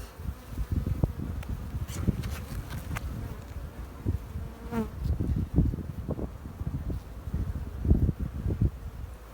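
Honeybees buzz around an opened hive during a February inspection, a steady close hum of many insects with brief louder passes near the listener, no talk.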